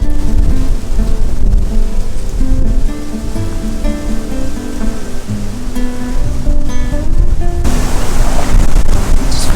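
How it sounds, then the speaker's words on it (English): Water rushing steadily through a desert canyon, a loud broadband wash that holds throughout and swells sharply near the end. "There's water down here."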